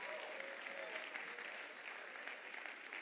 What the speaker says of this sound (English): How about another round of applause for all the fine folks behind the scenes that help put things on?